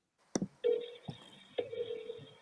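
A phone being dialed to call someone: a sharp click, then a steady two-tone keypad beep that repeats after a short tap and a second tone, quiet and close with no talking.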